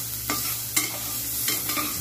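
Onion, ginger and garlic frying in a pan and being stirred: a steady sizzle with four distinct scraping sweeps of the spoon, moderately close, with no voices.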